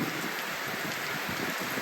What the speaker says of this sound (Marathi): मला तर वाटत नाही पाऊस बंद होईल